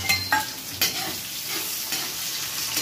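Onion and curry leaves hit hot oil with cumin, giving a steady close sizzle broken by a few sharp stirring scrapes and clatters.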